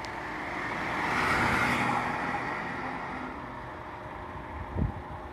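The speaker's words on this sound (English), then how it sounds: "This is the petrol version which my journalist friend is driving right now." Steady road and engine rumble from a Tata Nexon AMT petrol car being driven, a broad constant wash swelling slightly midway with a brief thump near the end, no talking.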